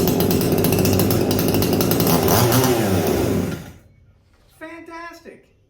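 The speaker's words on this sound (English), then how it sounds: "It's a great running saw." A chainsaw, an Echo 4510 or Poulan Pro 4620, runs loud and close with a high buzzing whine that cuts off abruptly partway through, followed by a few brief fainter sounds.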